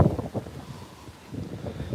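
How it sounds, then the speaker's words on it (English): Gusty wind on a beach at night buffets the microphone in low rumbling bursts, with no voices, steady through the short stretch. "It's kind of windy here too."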